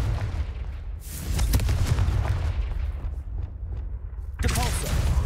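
Confringo fire spell blasting in Hogwarts Legacy, booming explosive bursts at the start and again near the end, with crackling, rumbling impacts in between, loud and close.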